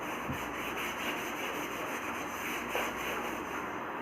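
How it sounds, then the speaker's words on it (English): A child's slate being rubbed clean gives a soft, steady scrubbing hiss, close by and fairly quiet, lasting a few seconds with no voices. "I have to rub my slate."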